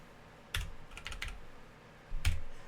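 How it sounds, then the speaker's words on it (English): Short bursts of typing on a computer keyboard, a quick cluster of clicky keystrokes followed by a pause and another brief tap, close and fairly loud, with no one speaking. "going to just type in 4000D"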